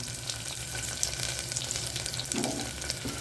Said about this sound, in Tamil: கொஞ்சம் வதங்கட்டும் பாருங்கள் வெங்காயம் வதங்கிடுச்சு